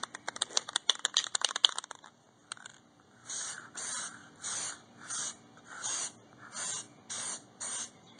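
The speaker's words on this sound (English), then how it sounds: "the next step is to spray paint the recessed areas and the sides black." A spray paint can applying black paint to the recessed areas and sides of a sandblasted iron cross, heard first as a fast rattle of clicks and then as a series of short, regular hissing bursts, close and alone.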